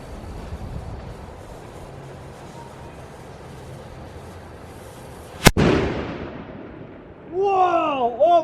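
A black powder confetti cannon goes off with a single sudden, very loud, close blast that cuts through quiet background noise. A rumbling tail follows, then excited voices shout.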